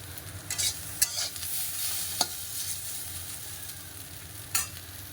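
Potatoes fry in a pan in a home kitchen with a soft, steady sizzle, broken by a few sharp spatula clinks against the pan, close but fairly quiet, with no voices.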